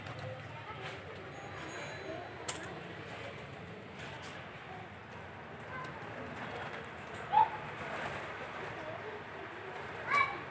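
Tame pet pigeons coo softly during hand training, faint low coos over a steady background hiss, with a few brief louder knocks.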